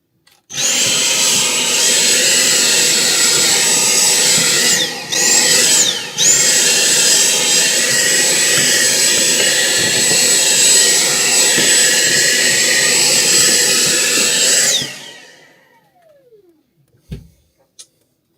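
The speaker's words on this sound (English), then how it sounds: "let's just hoover this up" A vacuum cleaner hoovers dust out of an opened ElectroVoice P3000RL amplifier, a loud, steady, high-pitched whine that runs for about fourteen seconds with brief dips, then winds down to silence, followed by a couple of faint knocks.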